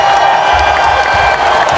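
Applause and cheering from a school audience at a celebration assembly for a pupil named Katie, a dense steady wash of clapping and crowd noise filling the room.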